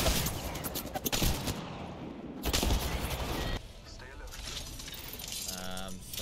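Automatic and single gunfire in the battle-royale shooter Apex Legends, dense bursts of shots with players talking over the action and a brief beeping interface tone near the end.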